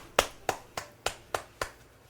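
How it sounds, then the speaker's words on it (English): Light, polite Vanna White style clapping: six crisp, evenly spaced claps, close and fairly quiet, with no one talking. "What was that, Vanna White clap?"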